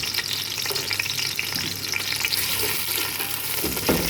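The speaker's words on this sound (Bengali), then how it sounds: "এটা পেঁয়াজটা আর গরম মশলা সব কিছু ভাজবো" Onions and garam masala fry in oil for Arabian mandi rice, a loud, dense, continuous sizzle heard up close with a faint stir near the end and no voices.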